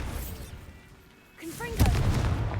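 A Bombarda blasting spell goes off in Hogwarts Legacy, a short booming burst with crackling tail rising after a quieter lull, layered over ongoing game sound.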